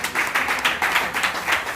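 A church congregation at a seminary in Lomé applauds the Lord with steady, rhythmic clapping that continues throughout, fairly loud and close, with faint voices mixed in.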